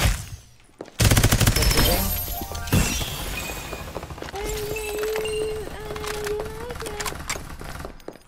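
Heavy automatic gunfire in the battle-royale shooter Farlight 84 erupts suddenly and rattles on in dense bursts, loud and close, with a sustained whining tone and game sound effects layered over it.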